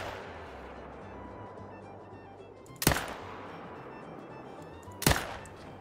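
Two sharp rifle shots ring out in the hunting video game The Hunter: Call of the Wild, about two seconds apart, each loud and abrupt over a quiet outdoor ambience.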